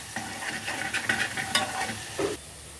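Food fries in a pan with ghee, a close crackling sizzle broken by scraping stirs of a spoon against the pan, lively and uneven over nearly three seconds without speech.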